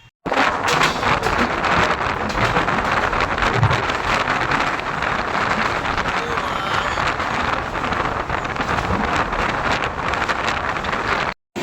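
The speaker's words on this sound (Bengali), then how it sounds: "এখানে ভাই বেরেলি পার হয়ে দেখছি ঝড় উঠে পড়েছে" A storm of wind and rain blows outside a sleeper-class train past Bareilly, a loud, continuous buffeting hiss with gusty microphone rumble that holds steady throughout.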